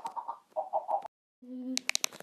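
Minecraft chickens in a chicken tornado, video game: a run of short clucks, a brief silence, then a held tone and a quick burst of sharp sharp clucking chirps, fairly loud and near.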